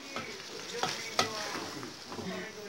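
Feijão tropeiro mixture sautéing in a pan, a close, steady sizzle with several sharp spoon scrapes and clicks against the pan at irregular intervals, with no voices.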